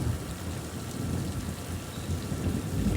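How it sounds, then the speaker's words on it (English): Light rain falling steadily outdoors at a rainy 5K run around GEODIS Park in Nashville, with a continuous soft patter and a low rumble of distant thunder underneath, with no talking. "A little bit of light rain. Still the occasional thunder"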